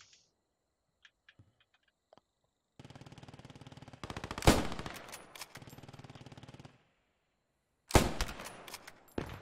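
Gunfire in the World War II shooter Post Scriptum, with a few faint clicks and then sustained bursts of automatic fire, loud sharp shots punctuating two long volleys separated by a brief pause.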